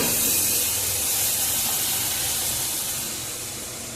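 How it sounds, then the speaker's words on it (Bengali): Hot water hits sizzling braised mutton in a pan, raising a loud, dense burst of hissing steam that holds steady and then slowly fades near the end. "আমি জলটা দিয়ে দিয়েছি ঢেলে, গরম জল"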